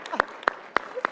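A handful of sparse, separate hand claps ring out at the CPAC 2020 conference, four distinct claps spaced evenly in a quiet room rather than full applause.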